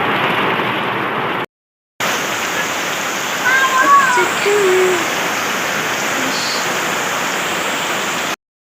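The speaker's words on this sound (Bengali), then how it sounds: "খোলা আকাশের বৃষ্টিটা দেখছি" Rain falling outdoors makes a steady, broadband hiss that runs through most of the stretch, with a short silent gap near the start and a few faint chirps over the wash.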